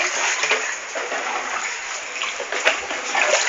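Broadband water splashing and sloshing inside a flooded house, a steady noisy wash of water that continues for the whole stretch with small surges, close and fairly loud.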